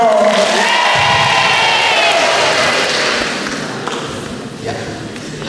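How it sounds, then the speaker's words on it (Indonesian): A seminar audience of students bursts into loud applause mixed with cheering and shouts, close and crowded, slowly fading over a few seconds as voices carry on around it. "Kasih tepuk tangan dulu dong."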